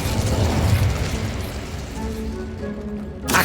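A fire spell cast in the video game Hogwarts Legacy: a loud, dense, roaring blast that rumbles steadily for a few seconds, thins out, then flares into a fresh burst at the end, with no voices.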